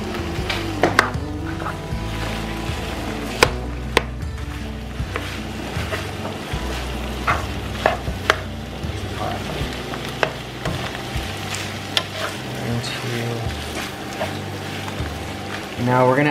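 Ground pork dropped into a hot pot and broken up for Khao Poon Nam Moo, giving a steady close sizzle and frying hiss with scraping stirs and clinks throughout, and a voice talking over it at times.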